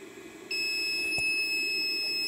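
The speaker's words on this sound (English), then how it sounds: "This machine will beep when it's done." A Harbor Freight 500 amp battery load tester, item 91129, emits a steady high-pitched electronic beep when its test finishes, starting abruptly and holding as a continuous tone, loud and close, with a brief click partway through.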